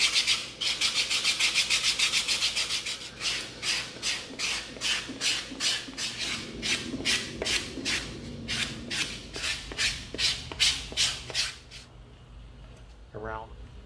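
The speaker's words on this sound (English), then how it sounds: "here's our 80 grit sanding stick" An 80 grit sanding stick rubbed back and forth on EVA foam, a close rhythmic rasping of steady strokes for about twelve seconds, then stopping as a voice begins.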